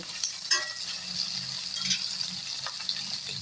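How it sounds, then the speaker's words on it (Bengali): Tomato fries and is stirred in a pan for ivy gourd curry with sesame paste, producing a bright, steady sizzle with a few soft scraping clicks from the stirring. "টমেটোটা দিয়েও আমি এটাকে একটু এভাবে নাড়াচাড়া করব, মানে একটু ভেজে নেব।"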